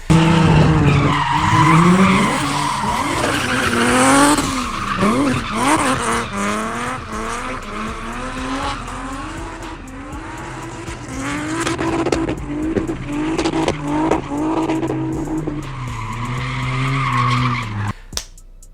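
A black Nissan 350Z race car laps a track at SPR, its engine revving up and down through gear changes while the tires squeal and skid in long, loud bursts, close by.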